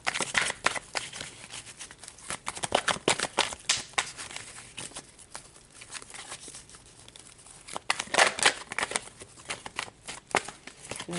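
Tarot cards being shuffled by hand, a steady patter of crisp riffling and slapping bursts, close and fairly quiet, coming in uneven clusters throughout with no talk.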